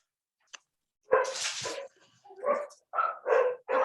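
Puppies bark and yip over a video call, a sharp lone yelp followed by a burst of close barks and several short whimpering yaps.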